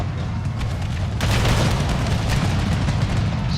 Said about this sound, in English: I'm starting to douse these guys with heavy cannon fire to stop them